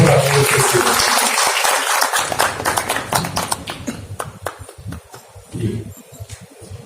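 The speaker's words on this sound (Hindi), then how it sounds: "मैं कहूंगा जोरदार तालियों से उनका अभिनंदन करें सर।" An audience at an awards ceremony gives a loud round of applause for an honoree. The dense clapping at the start gradually breaks apart into distinct individual claps, swelling briefly again before thinning out.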